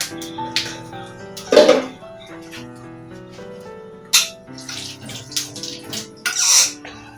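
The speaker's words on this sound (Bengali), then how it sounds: "তেজপাতা ধুয়ে দিলাম" Bay leaf rinsed under running water in a home kitchen while cooking a Bengali vegetable tarkari, giving short splashy bursts of tap water with quieter pauses between.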